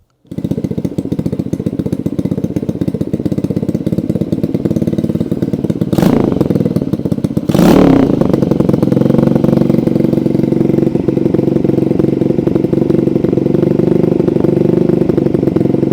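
An Xpro X9 125 motorcycle engine idles loudly up close, a steady throbbing rumble that holds throughout, with a couple of brief higher-pitched bursts early on.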